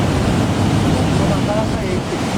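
Ocean waves and surf at Irago beach in Japan during typhoon swell, a loud, steady wash of breaking water and rushing noise filling the scene, with a voice speaking briefly over it.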